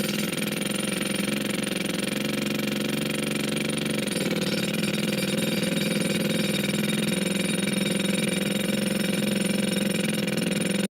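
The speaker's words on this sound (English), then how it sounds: "So that's the second one, that jackhammer." Recorded jackhammer noise plays as a dense, steady, relentless rattling drone at constant loudness for about eleven seconds, with no voices over it.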